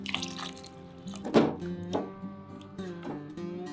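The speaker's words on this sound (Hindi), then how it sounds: "अब इसमें हम डालेंगे 2 कटोरी पानी।" Water is poured into a pan of raw mango pieces coated in spice, a close splashing pour with a couple of louder gushes and light knocks, no talking.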